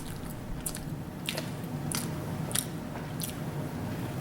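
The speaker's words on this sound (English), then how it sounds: "Addressing a loud chewer can be a tricky situation" Wet, crunchy chewing with smacking bites at an uneven pace, close up and fairly loud against a faint background.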